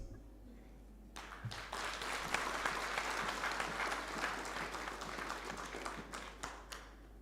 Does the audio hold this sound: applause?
yes